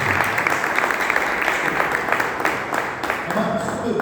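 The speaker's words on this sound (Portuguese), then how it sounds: "Você pode aplaudir a palavra de Deus." Congregation applauding during a church service, a steady dense wash of clapping at moderate volume that carries on throughout without a break.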